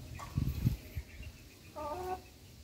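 Rhode Island Red chickens cluck close by at low volume, a few short low clucks followed by a brief higher squawking call.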